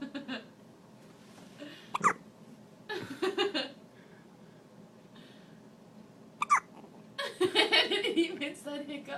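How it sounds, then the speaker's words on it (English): Baby hiccuping, a few short sharp hiccups spaced seconds apart, with soft breathing and quiet adult talk between them. "Baby has the hiccups."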